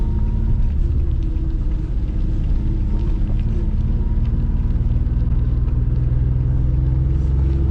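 An Infiniti G37 with a replaced VVEL module drives under a constant loud low engine rumble heard from inside the cabin, steady and unbroken throughout.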